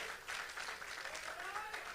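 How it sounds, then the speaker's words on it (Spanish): Steady applause from a congregation at a Spanish-language church service, a dense wash of clapping that holds evenly throughout, moderately distant. "Dale ese aplauso fuerte al Señor."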